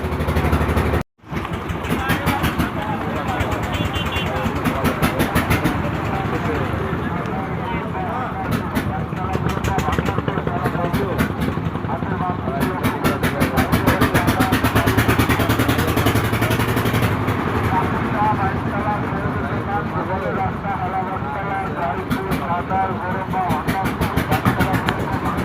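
The engine of a Mahindra passenger vehicle runs and pulls away on a village road near a ferry ghat. It makes a steady, close mechanical drone with rising effort, heard under ongoing conversation among passengers.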